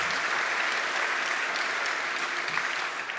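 Steady, dense audience applause for an orientation and new student programs team at a welcome event for new university families, a continuous wash of many hands clapping without pause.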